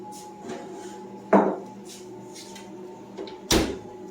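A baked zucchini dish in a baking dish, lifted out of an oven and set down twice, giving two separate close thuds with quiet kitchen rustling between them.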